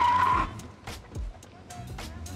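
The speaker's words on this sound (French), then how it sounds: "la voiture s'arrête et les pneus crissent" Tires of a Citroën Ami Buggy without ABS screeching under hard braking in a parking lot in Martinique, a short squeal at the start that quickly fades into quieter rolling and brief knocks.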